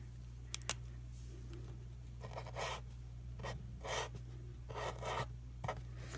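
Faint, dry scratchy strokes of a dollar-store glitter marker writing on wax come in short separate bursts, with two sharp little clicks early on, all over a quiet low hum.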